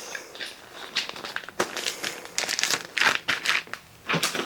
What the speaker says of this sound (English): I will take these same Ziploc bags, fold them up